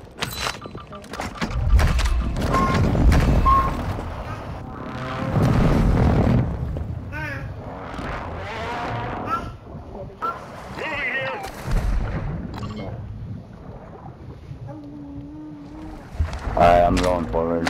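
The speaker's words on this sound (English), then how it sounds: "Hostile airstrike near your location." Heavy airstrike explosions from Warzone 2.0 boom and rumble across a water zone. Several loud, broad blasts swell and fade over the stretch, with game sounds and a talking voice running over them.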